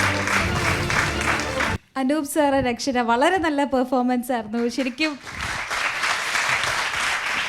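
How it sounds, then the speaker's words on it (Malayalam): Studio audience applause on a Malayalam television show, loud and sustained at the start, cut off by someone speaking over a quieter stretch, then swelling back into steady clapping to the end. "ഓഡിയൻസ് കൈയടിച്ച് നിങ്ങളെ അത്രയധികം പ്രോത്സാഹിപ്പിച്ചു"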